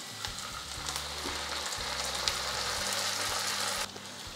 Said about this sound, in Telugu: ఇప్పుడు దీన్ని మంచిగా ఫ్రై చేయాలి గైస్